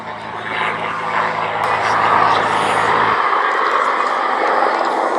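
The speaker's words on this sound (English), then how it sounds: "the Storch has taken cover on the ground and rolls for takeoff again" A Fieseler Storch rolls for takeoff at the Duxford VE Day air show, its propeller engine a loud, steady drone that swells slightly as it gathers speed, with no talk over it.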